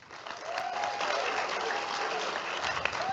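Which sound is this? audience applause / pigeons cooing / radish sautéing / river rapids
audience applause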